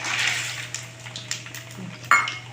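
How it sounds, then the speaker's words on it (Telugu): Mustard seeds and spices crackle and sizzle steadily in oil in a pan, with light clinks of a utensil and a brief sharper clatter near the end. "ఆవాలు వేసానండి ఇప్పుడు కొంచెం కాపుడు పోపు పోపు దినుసులు అండి"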